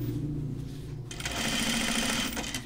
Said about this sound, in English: I'm going to do my top stitching here.